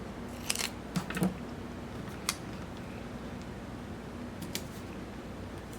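Scissors snip through a paper floral piece for a November monthly setup display, a few short crisp cuts in quick clusters over a quiet room hum, close and fairly soft.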